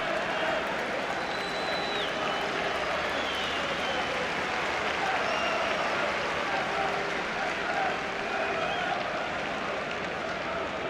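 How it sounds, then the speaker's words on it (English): Broad, steady roar of a stadium crowd applauding at a Stoke City versus Liverpool football match, distant and continuous throughout, blended with general crowd murmur. "the applause you heard there was for Peter Odemwingie"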